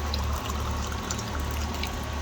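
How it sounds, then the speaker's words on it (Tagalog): Water poured from a glass into a pot for cooking pansit, a steady continuous splashing flow heard close and alone throughout. "Nilagyan namin ng tubig. 3 baso po yan."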